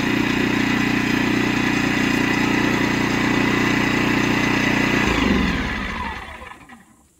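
A portable Einhell TC-IG 2000 petrol generator engine runs loud and steady with a constant low drone, then shuts off and winds down into silence over the final seconds.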